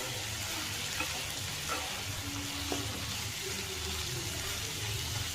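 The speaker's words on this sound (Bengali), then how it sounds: "খুব হালকা আছে সিম করে ঢেকে ঢেকে সুন্দর করে লাল করে ভাজতে হবে" Vegetable filling for singara fries in a pan over low heat, making a soft, steady sizzle with faint stirring clinks, heard close but quiet.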